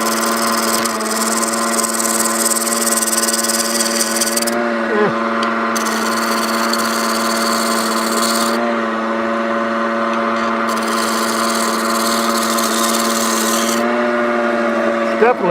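A wood lathe turns a hollow form at about 1,200 to 1,300 RPM, a loud, steady, close hum with layered tonal whine, while a tool rubs and scrapes against the spinning wood in long intermittent passes.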